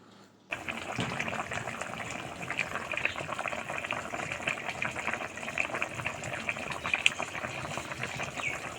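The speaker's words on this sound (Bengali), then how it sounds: "এবার আমি দশ মিনিট ফুটিয়ে নেব" A fish curry with drumstick (data), potato and plantain simmers in a pot, making a steady, close bubbling and crackling boil that starts abruptly and continues evenly throughout.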